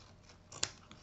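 Scissors make a single quick, sharp snip while trimming material for a decorative corset embellishment on a junk journal, close and brief against a quiet background.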